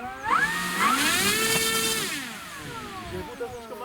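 Electric motor on a 3D-printed RC P-47 Thunderbolt model aircraft, rated at 1.5 kW, spinning up in a rising whine that holds steady, then winds down, with voices speaking briefly nearby.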